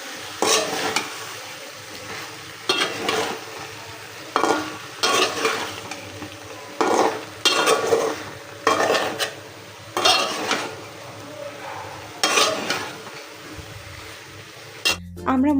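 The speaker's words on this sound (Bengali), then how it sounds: "এখন ডালটার সাথে আরেকটু কষাই নেব।" Vegetables and dal are stir-fried in a pan with a spoon, in rhythmic bursts of scraping and clattering about every one to two seconds over a low sizzle. The action is close, with quiet gaps between strokes.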